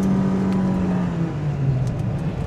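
Proton Saga 1.5L with a CVT accelerating in sport mode, a steady engine drone with a smoothly shifting tone, heard from inside the car, loud and without talk.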